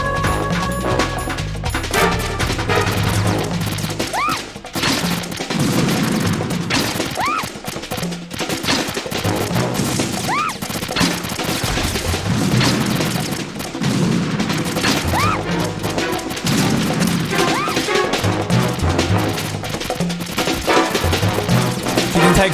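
Rapid gunfire from the video game Metal Gear Solid 2 rattles on without pause, dense repeated bursts and booming impacts mixed with game music, loud and close.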